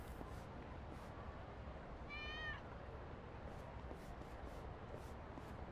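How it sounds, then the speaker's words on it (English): In the video game Lost Judgment, a single brief cat meow sounds faintly near the middle, set against a constant low ambient hiss with scattered soft ticks. "I heard a cat."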